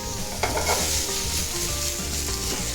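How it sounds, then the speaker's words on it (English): Shrimp fry loudly in a Gotham pan, a close, continuous sizzle with bursts of crackle as they are stirred and turned, with no speech. "And these shrimp are almost done."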